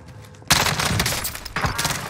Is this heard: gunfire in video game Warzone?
yes